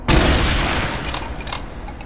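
Gunfire from shooting an enemy in Brutal Doom 64 opens with a loud, booming blast that rolls on as a dense, rumbling barrage, with a couple of sharper reports near the end.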